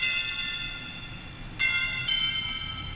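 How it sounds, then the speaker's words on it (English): Sustained bell tones ring with bright metallic overtones, retriggered twice in quick succession like a looped, chopped sample in a trap-style beat made in FL Studio, with a low rumble underneath. "I've chopped the bells right here"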